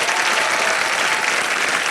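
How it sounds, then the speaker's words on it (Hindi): Dense, steady applause from a television game-show studio audience, loud and continuous without breaks, cheering a band after a word-guessing round. "जोरदार तालियां उनके लिए"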